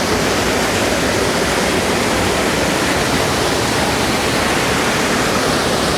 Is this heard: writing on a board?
no